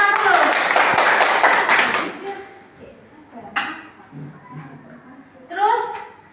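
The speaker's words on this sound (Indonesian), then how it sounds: "Weh, tepuk tangan dulu." A high school class bursts into a couple of seconds of brisk hand clapping in a classroom, then it stops and a teacher's voice continues speaking with small bumps and taps around her.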